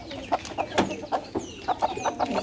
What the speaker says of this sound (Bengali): ভেতরে আমি একটা মুরগিকে 10টা ডিম দিয়ে বসিয়ে দিয়েছি ও ঘরের ভিতরেই।